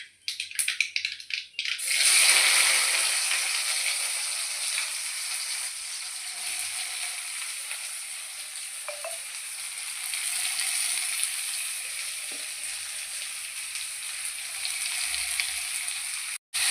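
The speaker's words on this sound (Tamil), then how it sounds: "இப்போ நல்லா கடுகு பொரிஞ்சிக்கிட்டு இருக்கு" Mustard seeds spluttering and popping in hot oil in a home kitchen, a steady close hiss with scattered small crackles that holds for the whole stretch after a brief rustle at the start.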